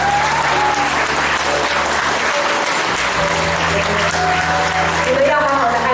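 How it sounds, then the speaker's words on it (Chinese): A church congregation at a pastor's reappointment thanksgiving service claps together in sustained, loud applause, with a voice talking over the crowd and a tone underneath. "刚刚的拍掌还不够，这个拍掌再一次给他好不好？"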